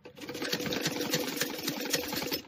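A sewing machine stitches two pieces of a child's blouse together, giving a steady mechanical whirring and rattling that runs continuously from start to finish at close range.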